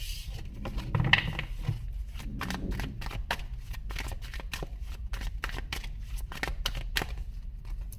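Tarot cards being shuffled by hand, a quick series of crisp riffling flicks and soft slaps close up, with a brief rustle near the start and steady repeated card snaps after.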